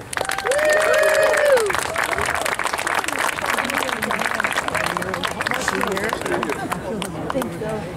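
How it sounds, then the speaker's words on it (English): An audience at a county preservation awards night claps in sustained applause, with a voice speaking over the start of it. "Would you please give a warm round of applause to Mayor Matt Mahan."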